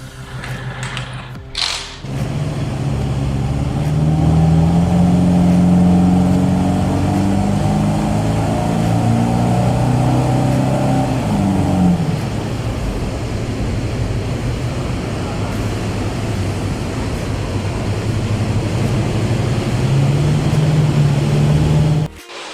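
A car fitted with a CRL Performance exhaust is revved hard on a dyno, its loud engine note climbing in pitch through a long sustained pull before abruptly cutting off.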